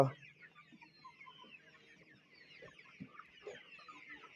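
Desi laying hens on a farm cluck softly and intermittently, with scattered low clucks and murmurs at a faint, quiet level and no speech.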